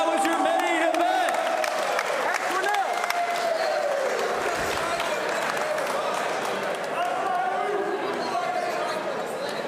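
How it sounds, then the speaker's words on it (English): Audience applause and cheering fill an arena right after an MMA main event at LFC5, a dense continuous crowd roar of clapping and shouting that holds steady for the whole stretch. "Give them a round of applause, ladies and gentlemen"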